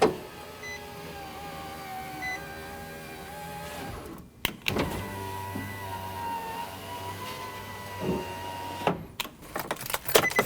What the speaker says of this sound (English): Now you want to check to make sure your window goes all the way up and all the way down.